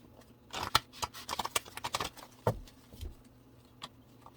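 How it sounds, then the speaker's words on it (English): A deck of tarot cards being shuffled by hand, a close run of quick riffling snaps and soft papery patters lasting a couple of seconds, with a few scattered taps afterward and no talking. "I'm going to cleanse this deck for a second because I realized I hadn't shuffled."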